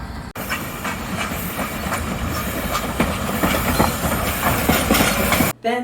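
A steam train rolls past near Snoqualmie with continuous loud rumbling, hissing steam and rhythmic clickety-clack of wagons, fairly close and steady throughout before cutting off abruptly.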